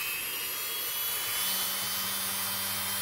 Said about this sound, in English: I'm going to try this rounded bit for my Dremel